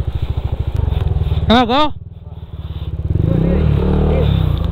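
A motorcycle engine chugs loudly on a rough mountain road on the San Luis to Baler route via Dingalan, Aurora, after getting stuck, a rapid pulsing throb that surges and revs, with a brief shout over it.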